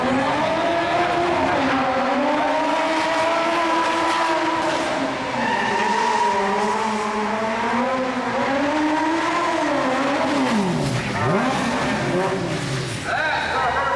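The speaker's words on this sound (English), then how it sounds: "driving an Opel Corsa" A stunt-show pursuit car, an Opel Corsa, skids with sustained, wavering tire squeals and engine noise, loud and continuous, with crowd and announcer voices mixed in underneath.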